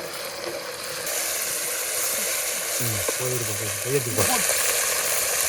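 Onion and ginger-garlic paste fry and get stirred in hot oil with a constant loud sizzle, while a voice speaks briefly over the cooking.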